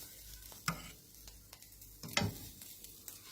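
Fish roe mixed with fish meat being stir-fried in a pan, heard as soft, scattered sizzling and occasional sharp spatula scrapes, fairly faint and without talk.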